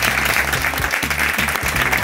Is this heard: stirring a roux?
no